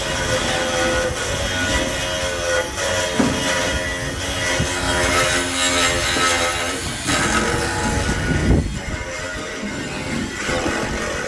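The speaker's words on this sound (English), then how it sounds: "Drilling a hole through the steel, the bracket" A drill boring a hole through a steel bracket in a workshop, a steady loud whirring grind with sustained tonal hum running for several seconds, broken by brief pauses and shifts in pitch as the bit bites.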